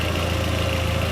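A VW Mk4 with the 1.8T engine idles steadily, a smooth continuous low hum and rumble without change, heard up close with no talk.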